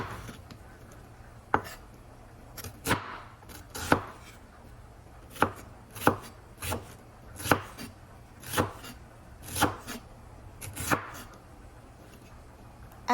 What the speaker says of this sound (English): So I have onions, so I will cut some onions and put inside.